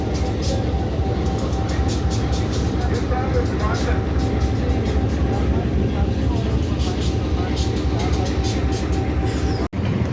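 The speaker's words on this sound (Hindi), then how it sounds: "RG20 लोकोमोटिव है और इसके साथ जो है 2 ब्रेक्स लगे हुए हैं" A freight train hauled by an RG20 locomotive at a railway station in Pakistan gives a steady loud rumble with rhythmic clatter throughout, while someone talks over it.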